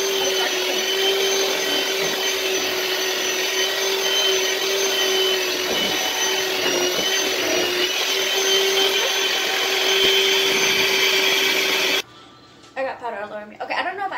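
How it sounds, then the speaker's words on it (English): An electric hand mixer whirs loudly and steadily as it beats flour into batter in a home kitchen, a constant motor drone that cuts off near the end, followed by talking. "And I'm gonna just take my electric mixer."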